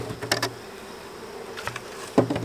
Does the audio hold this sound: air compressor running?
no